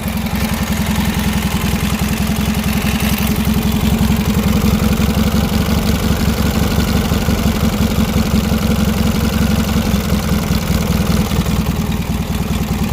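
Briggs & Stratton opposed twin engine idling after sitting a long time, running on a stock muffler with a loud valve train; a steady, close, rumbling idle with a dense rapid firing pulse that holds throughout.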